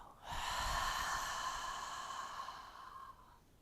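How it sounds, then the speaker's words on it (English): A single long, airy breath during a guided deep-breathing exercise, close and soft, a steady whooshing exhale lasting about three seconds with no talking. "Inhale, exhale. 1 more. Inhale, exhale."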